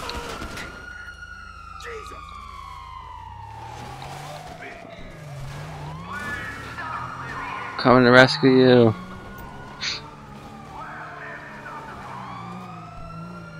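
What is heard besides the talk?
police car sirens in the video game GTA 5 Online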